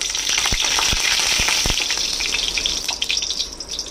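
Green chillies fry in hot oil for a ridge gourd and pigeon pea dal, a loud bright crackling sizzle with a few sharp spatters and knocks, easing slightly toward the end; no talking.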